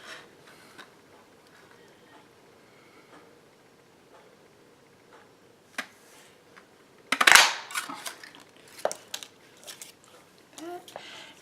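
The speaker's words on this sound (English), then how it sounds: "I'm going to take the 2 1/2 inch circle punch, and I'm going to cut this out, or punch this out" A 2 1/2 inch circle punch pressed through paper, giving one sharp crunching snap amid scattered small clicks and paper handling, with soft speech nearby.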